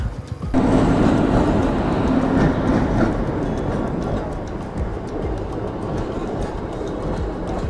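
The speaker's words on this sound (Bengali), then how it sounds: "ট্রেনটা ক্রস করলো, রেলগেট খুললো" A train roars past close by at a railway level crossing, a dense continuous rumble with clattering wheels and a brief horn-like tone early on, gradually easing off.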